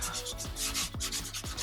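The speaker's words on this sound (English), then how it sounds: "I'm going to use a coarse sandpaper, about an 80 grit, just clean up" Coarse 80-grit sandpaper rubs back and forth over a thrifted wooden bookcase in quick, rhythmic scratchy strokes, close and steady.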